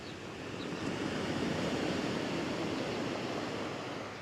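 Ocean surf rolling onto a beach in Puerto Vallarta, a broad steady wash of breaking waves that swells gently and holds close and full throughout, with some wind buffeting and no voices.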